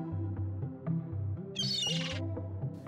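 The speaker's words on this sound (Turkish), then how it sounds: "Ve aniden bir serçenin ıslığını duydu." A sparrow's whistling chirps, used as a sound effect in a children's story, flutter briefly at mid-clip over a low, steady background music bed.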